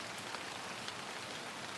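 Steady rain falls as a dense, even hiss of drops, constant and fairly soft, with no voices.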